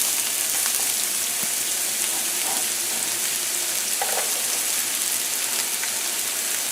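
Steady, dense sizzling of onions stir-frying in hot oil over medium-high heat, close and continuous, with a few faint clinks of utensils.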